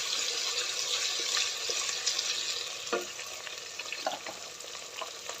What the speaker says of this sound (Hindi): अब हम इसमें अदरक डालेंगे और हरी मिर्ची डालेंगे। इसको थोड़ा सा भूनेंगे।